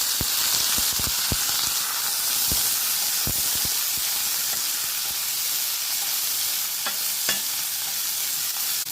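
Small onions, about 200 grams, cut and frying with garlic in a pan, giving a steady close hiss and sizzle with occasional clicks of stirring and no voices.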